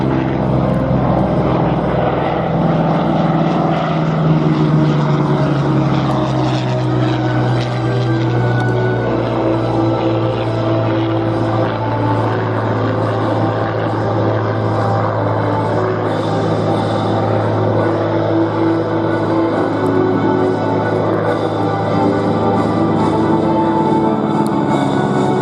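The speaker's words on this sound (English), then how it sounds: "First, the Goodyear G1D Corsair, then the Curtiss P-46 Tomahawk." A Goodyear Corsair and a Curtiss Tomahawk fighter fly past at the Duxford airshow, their piston engines giving a loud, steady, continuous propeller drone that swells slightly and holds for the whole stretch.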